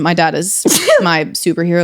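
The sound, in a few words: sneeze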